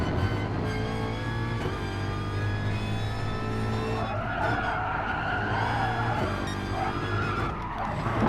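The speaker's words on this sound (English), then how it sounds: "Oh, Tom is sideways, drifting around the corner." A race car slides sideways through a corner at Brands Hatch, tyres skidding in a steady loud screech over a continuous engine drone, with the pitch shifting midway as the slide develops.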